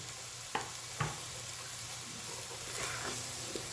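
Panjiri mixture of semolina roasting in desi ghee in a pan, a steady soft sizzle with a couple of sharp spoon scrapes and taps over it.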